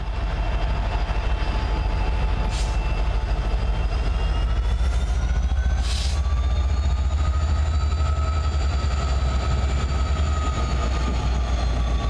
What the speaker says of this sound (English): that's a freight train going by on the BNSF right behind my house